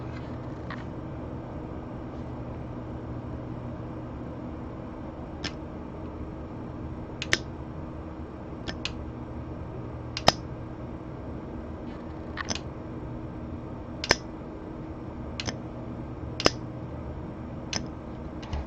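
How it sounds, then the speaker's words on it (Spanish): LP gas control actuator clicking each time it is energized: a dozen or so sharp, isolated clicks at irregular intervals over a steady low hum, close and crisp. "Cada vez que lo energizamos se escucha un clic."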